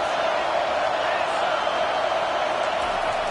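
A stadium crowd at a football game roars in a broad, steady wash of cheering and noise that stays loud and unbroken, without distinct individual voices standing out.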